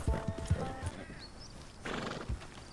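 A horse in the Red Dead Online video game whinnies loudly while its hooves clip-clop close by in several quick steps.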